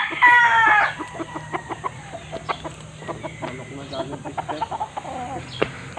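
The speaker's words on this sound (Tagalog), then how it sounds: "So mga manok mga kalitar oh." Chickens cluck and a rooster crows close by in a rural yard, the crow opening the clip loudly, followed by scattered clucks and short calls over a steady background hum.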